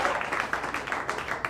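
Scattered applause from a comedy club audience after a roast battle round, a moderately distant patter of many hands clapping with a faint murmur of voices beneath.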